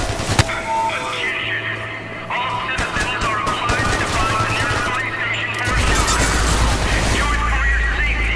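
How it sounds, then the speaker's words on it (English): Automatic AK rifle fire in the shooting video game Hatred: loud, dense bursts of rapid gunshots throughout, with booming blasts and chaotic game effects layered beneath. "So let's get our AK out."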